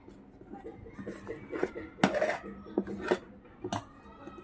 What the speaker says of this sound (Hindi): और मैं आधा बनाऊंगी तो आधा मैं अलग बर्तन में निकाल लेती हूँ।